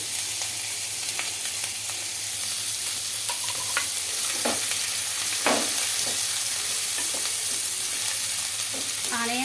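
Chopped onions sizzle steadily in hot oil for a fish curry, a continuous close frying hiss with occasional stirring scrapes and pops.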